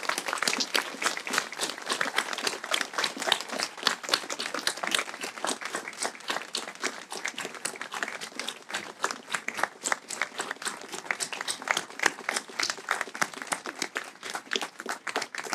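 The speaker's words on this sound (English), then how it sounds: "please rise and join me in applauding all of our heroes today" An outdoor crowd at a county Memorial Day observance and medals presentation applauds for over fifteen seconds, dense, uneven clapping from many hands that stays fairly loud and steady with no speech over it.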